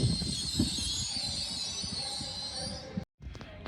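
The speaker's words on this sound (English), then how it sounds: "Departing now is your 1105 LNER Zoomer service from London King's Cross to Edinburgh Waverley" LNER Azuma train departing York station on the East Coast Main Line: a steady, moderately distant hum and rumble of the moving train with a high whine, briefly cut out near the end.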